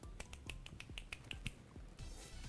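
Finger snaps repeat in a quick, fairly steady rhythm, sharp and close but quiet, with no talking over them.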